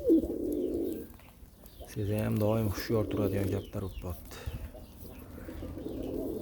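Pigeons cooing in a loft where the birds are flown daily, soft low calls recurring between stretches of someone talking nearby.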